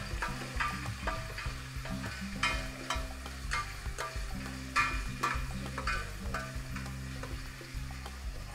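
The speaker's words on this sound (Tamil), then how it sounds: "அதோடு சேர்ந்து முந்திரியும் வதக்கிக்குவோம். நல்லா கொஞ்சம் இந்த எண்ணெயிலேயே வதக்கிடுவோம்." Cashews sautéing in oil in a pan for jeera rice give a steady close sizzle, with repeated scrapes and clinks of a spoon stirring throughout and no voices.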